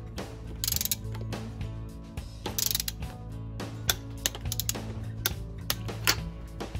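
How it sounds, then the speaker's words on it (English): Close mechanical clicking and ratcheting of a torque wrench tightening spark plugs on a Mercury XR4 150 HP two-stroke outboard, in irregular bursts over a low steady background hum. "The manual recommends tightening the spark plugs to 20 foot-pounds of torque, so we got our torque wrench and set it at 20 foot-pounds."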